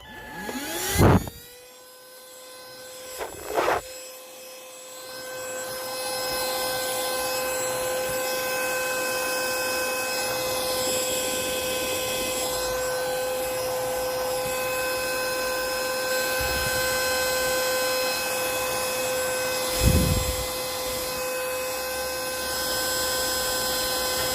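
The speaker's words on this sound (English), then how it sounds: "So now I'm going to vacuum out the remaining grounds inside." A handheld vacuum switches on after a few clicks and runs steadily with a high whine, close by, cleaning leftover grounds from inside a coffee grinder, before brief knocking near the end.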